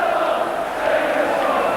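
A football crowd at a Middlesbrough v Luton Town Division One match chanting for Brian Robson, a loud, sustained, massed roar of many voices heard briefly.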